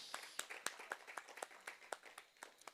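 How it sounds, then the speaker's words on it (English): A small audience claps at a spoken word event, quick sharp hand claps in an uneven patter, moderately close, with no voices over them. "Let's give them a round of applause"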